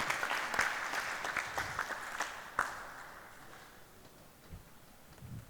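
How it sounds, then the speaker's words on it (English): Audience at a conference inaugural ceremony for an electronics supply chain event clapping, a dense patter of many hands that swells with a few sharp claps, then thins and tapers off toward the end. "Can we all give a huge round of applause for Mr."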